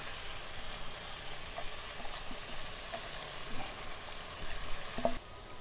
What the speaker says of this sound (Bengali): এইভাবে মাছগুলোকে সম্পূর্ণ মশলা আলুর সঙ্গে চাড়িয়ে চাড়িয়ে